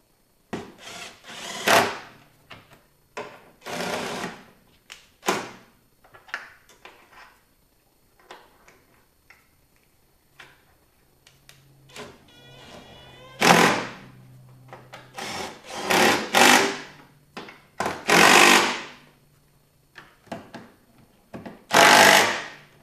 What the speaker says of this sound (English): I'm gonna go ahead and do the 3 16-millimeter bolts up top.